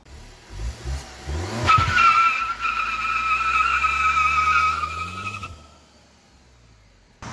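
Stock 1.8T VW MK7 doing a burnout with traction control off: a loud, sustained tire squeal with steady high whine over a rising engine drone, lasting several seconds before cutting off into near silence.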